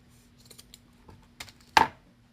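Scissors cutting a length of crochet ribbon about 12 inches long: a few faint small clicks of handling, then one sharp, close snip near the end, in a quiet room.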